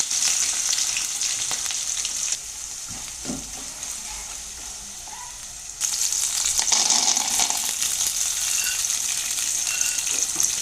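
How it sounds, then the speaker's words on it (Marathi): Onion frying in a pan gives a continuous hiss and sizzle heard close up for about ten seconds. The sizzle dips in volume partway through, then swells louder again, with occasional stirring scrapes. "तर कांदा हे चांगलं परतून झालं।"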